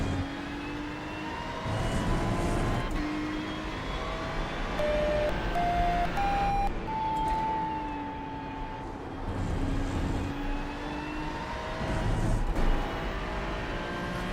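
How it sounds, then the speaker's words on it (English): Beeping tones during a GT3 endurance race session at Le Mans in a Ferrari 296 GT3 simulation, single steady beeps at rising pitches over a continuous engine drone, moderately loud. "don't know what the hell that beeping is."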